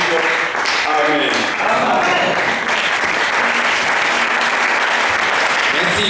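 A church congregation at a Thursday evening service breaks into loud applause and cheering, with continuous clapping and raised voices at a steady high level throughout.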